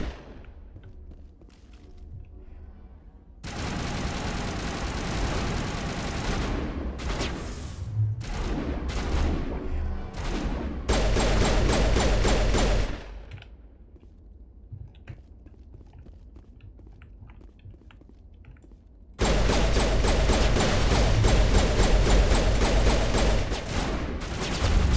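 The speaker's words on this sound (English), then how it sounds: "Oh, that's a sniper." Sniper rifle fire in the video game Mass Effect, loud bursts of gunfire and impacts in several dense blocks separated by quieter stretches of ambient game sound, no talking.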